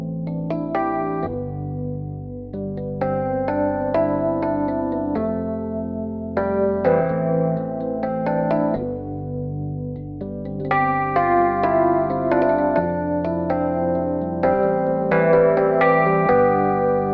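Piano plays a sustained chord progression, with quick melodic fill-ins between the chords, clear and close with no talking.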